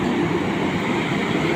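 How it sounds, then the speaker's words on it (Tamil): Vande Bharat express train at Erode railway junction in India, a steady, loud rumble of rolling railcars continuing throughout without pause, with no voices. "அந்த வந்தே பாரத் ட்ரெயின் தான் இது."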